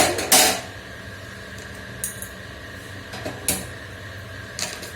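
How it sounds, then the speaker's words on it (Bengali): A lid goes onto a cooking pot of greens with a loud metallic clank at the start, followed by a few lighter clinks and knocks from the kitchen. "ঠিক আছে, এবার ঢাকা দিই।"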